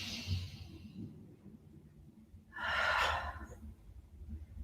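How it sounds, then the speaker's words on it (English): A single deep breath drawn in during a relaxing stretch routine, a soft airy rush that swells briefly and then fades, preceded by quieter breathing. "One more deep inhale."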